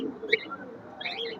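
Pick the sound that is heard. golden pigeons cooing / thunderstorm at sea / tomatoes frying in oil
golden pigeons cooing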